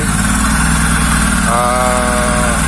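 Honda Jazz engine idling on a homemade Speeduino ECU, a steady low mechanical drone close by with no pauses, joined midway by a higher tonal whine.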